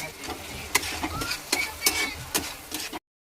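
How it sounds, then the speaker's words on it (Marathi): Chopped tomato goes into a home-cooking pan, followed by a few sharp scrapes and knocks of a spoon stirring over a soft background sizzle, with clicks spaced through a short span. "आता आम्ही टाकतो याच्यात टमाटा."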